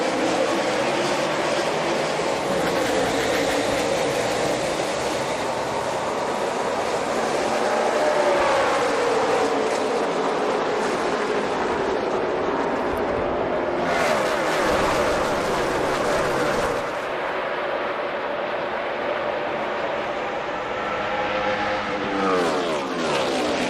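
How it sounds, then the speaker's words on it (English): NASCAR Sprint Cup race cars roar at Charlotte Motor Speedway, a dense, loud, continuous engine wall with pitch sweeps as cars pass, sustained throughout with no voices. "Listen to those engines scream off into turn 3."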